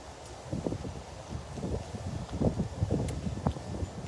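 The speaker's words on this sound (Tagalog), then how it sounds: "mahangin dito" Gusty wind buffets an outdoor cooking spot in the Philippines, rumbling against the microphone in uneven bursts with rustling in between, fairly close and steady throughout.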